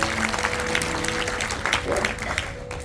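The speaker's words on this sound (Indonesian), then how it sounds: "Kasih tepuk tangan dulu Pak, luar biasa" A church congregation at a New Year worship service applauds together, many hands clapping in a full, continuous wash with a faint sustained tone underneath, easing off slightly at the end.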